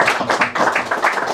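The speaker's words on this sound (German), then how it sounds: "Ich würde euch bitten, die beiden mit einem kurzen Applaus einmal bitte zu begrüßen." Short applause welcoming two coaches at an ice hockey press conference: a brief burst of quick hand claps from a small group, close and fairly loud, lasting about a second.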